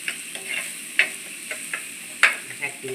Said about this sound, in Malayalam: കടലയുടെ മസാല നല്ലോണം ഇങ്ങനെ വഴറ്റി എടുക്കണം